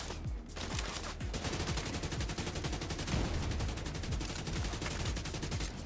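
AK rifle fire in The Division 2 rattles in fast, continuous automatic bursts, loud and sustained with only a brief gap near the start.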